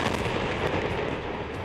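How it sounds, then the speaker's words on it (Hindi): A bomb blast in Lebanon, captured in news footage, gives a loud, continuous roar of dense broadband rumble that holds steady without pause, with no voices over it. "लेबनान में गिराए गए इस बम पर नेतन्याहू के दस्तखत थे"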